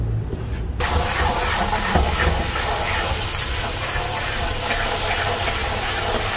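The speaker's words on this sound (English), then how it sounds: "it's just basically frying it up, grilling it up" Masala-coated niblets frying and grilling in a butcher shop kitchen give off a steady, loud sizzle and hiss that runs continuously close by, with no one talking.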